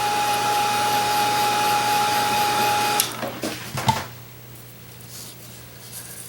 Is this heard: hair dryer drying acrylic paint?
yes